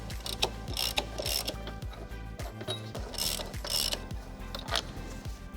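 Ratchet wrench loosening car control arm bolts, a rapid repeated clicking of the pawl in bursts, close and loud with no talking.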